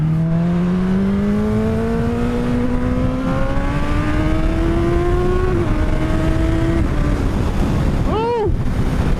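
A sports motorcycle accelerates hard, its engine note climbing steadily in pitch through one gear, then a quick shift and renewed pull, all under heavy rushing wind buffeting the microphone.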